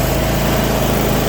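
A Troy-Bilt zero-turn mower with steering-wheel control runs its engine at full throttle outdoors in a yard, giving a loud, steady, close engine drone with no talking.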